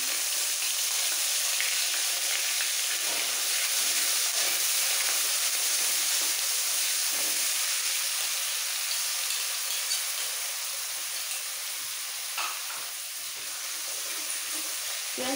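Onion paste sizzles steadily in hot oil in a home kitchen pan while a Bengali katla fish curry with cauliflower and potato is cooked, a continuous close frying hiss with occasional faint stirring scrapes and no talk.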